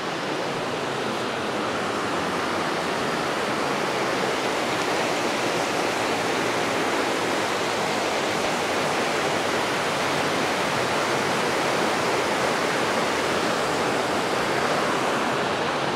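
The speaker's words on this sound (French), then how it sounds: "en passant, on a vu une petite cascade" A small waterfall beside a greenway gives a steady, loud, broadband rushing of falling water that holds evenly from start to end, with no voices or other sounds breaking through.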